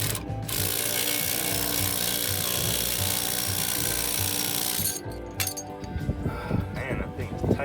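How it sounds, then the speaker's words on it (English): Tools work on the lower ball joint of a Ford Pinto's front suspension, with a sustained close mechanical ratcheting grind that breaks into irregular metallic clanks and knocks near the end. "I'm just gonna separate the bottom ball joint now."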